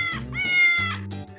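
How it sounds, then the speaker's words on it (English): A barn cat in a Playmobil pony-sitting play scene meows loudly and up close, a few drawn-out cries run together with no talk over them. "That's my barn cat, Beauty."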